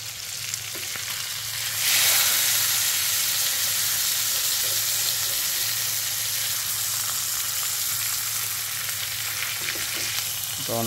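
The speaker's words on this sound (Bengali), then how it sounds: "এই যে আমার স্টেক ভাজা হচ্ছে এখন" A thick homemade beef steak fries in mustard oil, a loud, steady close-up sizzle and hiss that swells after a couple of seconds and holds evenly, with faint clinks and no talking.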